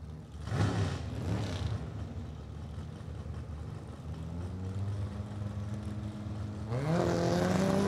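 Drag race car with a small 4-cylinder engine at a spring meet, loud steady engine drone with rising revs near the start and a strong climbing rev toward the end, close and dominant with no talk.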